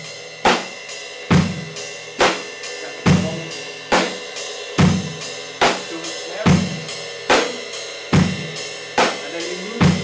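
A close, loud drum kit groove: bass drum thumps and a cracking snare backbeat, with cymbal strokes ringing steadily over an even pulse.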